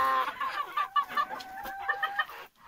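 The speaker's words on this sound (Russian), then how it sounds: "Птички, как видно, активные довольно такие, поправляются" Hens in a village henhouse cluck close by, a busy run of short, throaty calls and murmurs rising and falling in uneven bursts with no talking over them.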